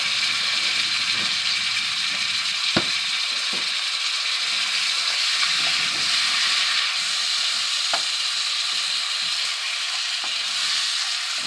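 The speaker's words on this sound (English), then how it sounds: "Just want to saute them onions just a little bit" Frozen diced yellow onions sauté in a pan, a steady close sizzle and hiss with a few sharp clicks and scrapes from stirring scattered throughout.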